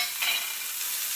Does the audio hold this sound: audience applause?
no